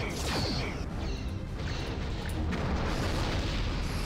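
Starship quantum torpedoes firing in a Star Trek space battle game, a continuous loud wash of booms, whooshes and rumbling explosions with no pause, under a constant roar of combat noise.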